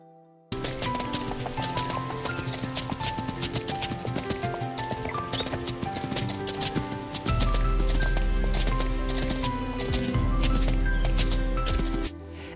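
Horse hooves clip-clop at a gallop in the mobile open-world game Sound of Horses, a steady, busy rhythm laid over continuous game music that thickens with a deeper drone partway through.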